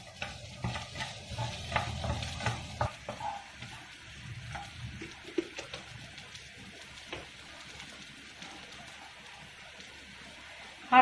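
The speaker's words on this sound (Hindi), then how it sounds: "मिक्स कर रहे हैं अच्छे से। दो तीन मिनट इसको हमको फ्राई करना है" Upma with peas being mixed and fried in a pan, a spoon scraping and stirring in uneven bursts over a soft sizzle, busier at first and quieter later.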